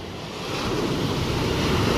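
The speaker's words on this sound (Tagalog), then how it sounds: "Kasi may alon." Ocean waves and surf rolling in with steady wind noise buffeting the microphone, a continuous wash that swells slightly louder with no talking.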